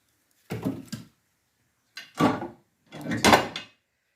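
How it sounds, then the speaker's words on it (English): Three short knocks and scrapes come from the door of a wood fire stove being handled and shut, each burst clear and close against silence, the last slightly longer. "closing this door."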